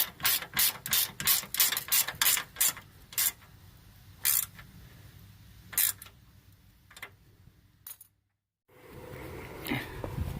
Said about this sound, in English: I got quite a long 1/4" ratchet on it.